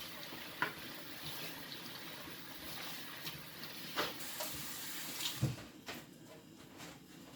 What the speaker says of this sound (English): So you wash your veggies.